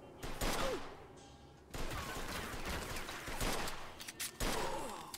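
Gunfire in the video game Mafia II, several bursts of rapid shots and loud blasts close up, with brief quieter gaps between them and no talk over them.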